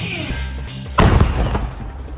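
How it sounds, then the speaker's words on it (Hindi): An IED detonates beside the Baramulla–Srinagar highway in Jammu and Kashmir, a sudden loud blast cutting through low background noise and followed by a rumbling, crackling tail that slowly fades. "ये धमाका उसी आईडी या कहिए विस्फोटक का है"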